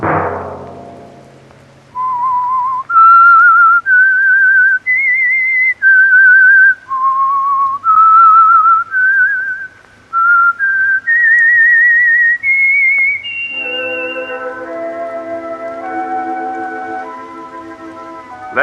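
A lone whistled melody, the theme of The Whistler radio mystery show, rises and falls in clear sustained notes, then gives way to a richer orchestral chord passage.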